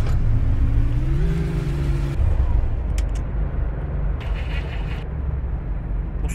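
A UAZ-3153 engine starts in the driving game City Car Driving: a low rumbling crank rises in pitch, then settles into a steady, loud idle hum, with a few faint clicks layered over it and no talking.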